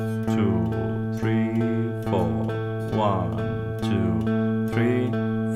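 A guitar plays the opening three measures of a song in repeated sustained chords, while a voice counts along in the foreground.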